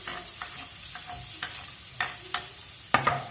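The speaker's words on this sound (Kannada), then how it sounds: "ಇವಾಗ ಇದಕ್ಕೆ ಕಟ್ ಮಾಡಿದ ಈರುಳ್ಳಿಯನ್ನು ಹಾಕೋಣ ಬನ್ನಿ." Chopped onion tipped into a pan of frying cumin and mustard seeds, a soft sizzle broken by several sharp stirring clinks and scrapes, close and without talk.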